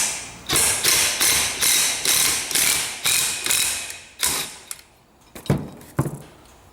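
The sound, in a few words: tightening a nut onto an alternator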